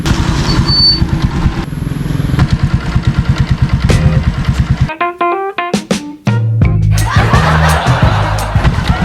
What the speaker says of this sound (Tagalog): Uy, nanay motor.